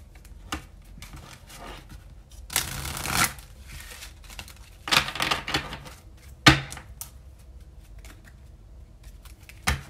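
Someone shuffles an oracle card deck up close, with soft flutters and papery riffles in uneven bursts and a sharp tap partway through, with no talking.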